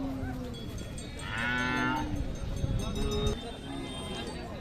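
Cattle at a Khillar cattle market low with one drawn-out moo in the middle, set against steady crowd chatter and market bustle, with people talking throughout.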